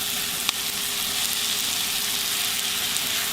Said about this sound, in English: let these simmer just a few minutes and get soft